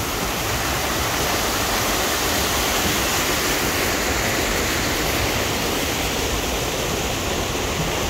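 Water pouring steadily at an old water wheel, now a museum piece, a loud constant rushing roar close by with no break and no voices.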